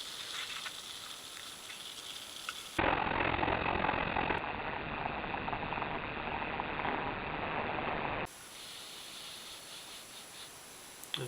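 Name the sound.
opening and fizzing can of Cherry Vanilla Coca-Cola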